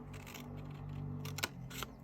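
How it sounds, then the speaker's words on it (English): Sharp scissors cut card for the front of a homemade chocolate gift box, with a few crisp snips standing out, close and fairly clear over a steady low hum. "but actually these scissors are so nice and sharp, it's easier to work with them"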